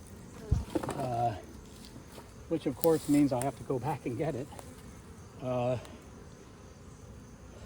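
Honey bees buzz around hive frames as honey supers are pulled, a constant insect drone beneath someone talking in short bursts.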